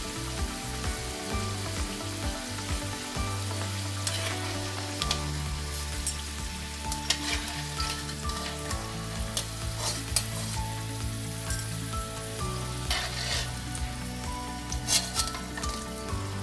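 Taro (gabi) French fries frying and being stirred in hot oil, a steady dense sizzle with rain-like crackle and occasional louder scraping stirs, close and continuous with no talking.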